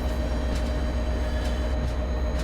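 An MBTA F40PH-3C diesel locomotive hauling passenger carriages on the Franklin line out of Boston in Train Sim World 2 gives a steady, loud, unbroken engine and rail rumble with faint whining tones throughout.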